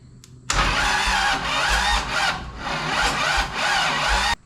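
A junkyard Toyota Land Cruiser FJ40 engine cranks over slowly without catching. The starter gives a loud, rough, rhythmic churning, like sawing, that lasts about four seconds before it stops.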